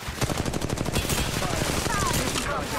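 Rapid automatic gunfire in the Apex Legends Mobile battle royale shooter, dense repeated shots in quick succession throughout, loud and close, with speech mixed in among the firing.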